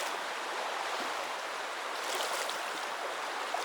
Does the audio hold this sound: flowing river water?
yes